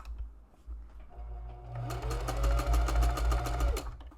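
A sewing machine stitches along a marked line on fabric, starting after a quiet pause and then running in a rapid, even mechanical patter for about two seconds before stopping, close and clear.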